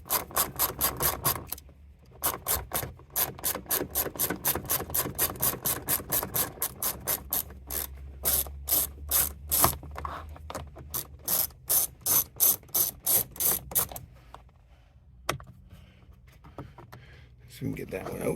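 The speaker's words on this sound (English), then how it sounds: "So remove these bolts here now. Again, those are 8mm there." A hand ratchet clicks rapidly and steadily while backing out 8mm bolts on a Ford F-150 mirror, with short pauses between bursts of close, loud clicking.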